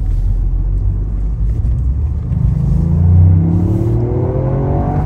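A three-cylinder car engine rumbles and revs up with a rising, throaty drone, loud and close, with no talking.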